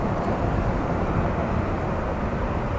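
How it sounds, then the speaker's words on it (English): Steady broadband rumble of an Air Canada Dreamliner at Dublin Airport in windy conditions, a continuous even roar heard at moderate distance with no voices. "Air Canada Dreamliner."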